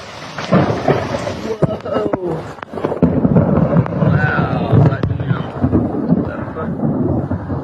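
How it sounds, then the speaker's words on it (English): A lightning storm on the Oregon coast gives heavy rumbling thunder and sharp cracks over steady rain, with people talking at times. "Where's the lightning? Oh, we had some lightning."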